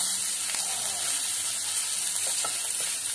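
Ginger paste and a little whole cumin sizzle in a pan with no extra oil added, cooking for a pabda fish curry: a close, continuous frying hiss with faint crackles and no talking.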